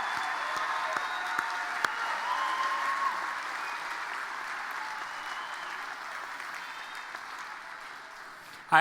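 Sustained applause from a large university commencement crowd for graduates, a wash of clapping heard at some distance, fading slightly before a sharp knock at the end.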